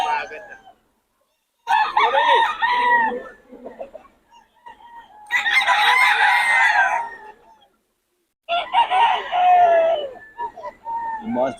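Roosters at a Batangas gamefowl farm crow in three long, loud calls separated by short pauses, with faint clucking and brief background sounds between them.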